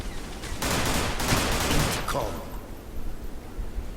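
Rapid automatic gunfire in the shooter game Zula, several bursts of close, loud shots running together for about two seconds, then fainter scattered shots with a voice talking over them.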